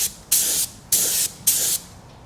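Three evenly spaced bursts of spray paint, each about a third of a second long, laying another coat onto a car panel during a paint repair. The hiss is loud and close, with short quiet gaps between passes.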